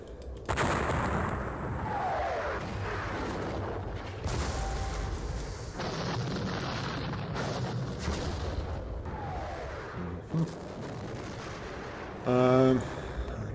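Artillery guns fire during a Napoleonic battle in the game Battle of Eylau, repeated heavy booms and cannon blasts with rumbling tails, loud and close, with someone talking between the shots.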